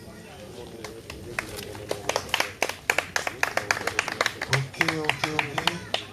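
An audience applauds for M. Gary with scattered, irregular claps that thicken into a modest round, while a voice speaks briefly over it.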